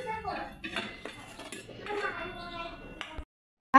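Pizza being moved onto an oiled metal plate at home, with metal clinks and scrapes of the plate and utensils, then a brief sharp clank at the end.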